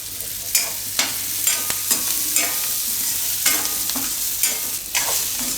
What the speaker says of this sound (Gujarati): તો થોડીક વાર આપણે આના મસાલામાં ફેરવી લીધા